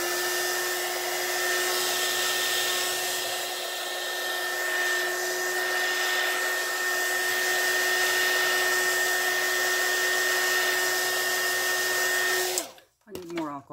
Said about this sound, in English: use the embossing gun again